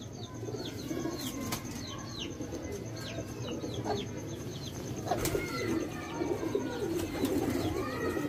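Sialkoti pigeons coo softly and repeatedly amid chirping birds and a busy background hum, with a faint voice now and then.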